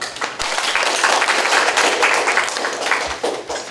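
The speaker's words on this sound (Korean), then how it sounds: "많은 박수 부탁드립니다" Brief applause from a student audience at an academic club presentation contest, a dense patter of claps filling a few seconds at moderate volume.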